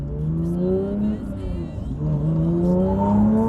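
Porsche GT3 engine revving hard toward 8,000 RPM, its rising harmonic whine climbing twice in quick sweeps, loud and close from inside the car with no talk.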